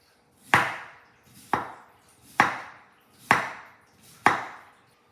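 Five sharp knife strokes cutting a halved piece of food into thin slices on a cutting board, each a crisp close thunk with a short fading tail, spaced about once a second, with no one talking.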